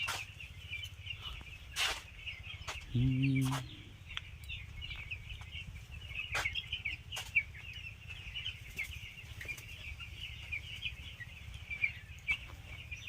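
Farmed chickens raised on sand and sawdust litter give a short burst of clucking against a faint, steady backdrop of chirping birds and scattered soft knocks.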